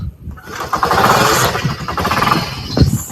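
A motorcycle engine starts and keeps running loud and close, with a busy mid-range rumble for about three seconds, recorded outdoors early on a cold morning.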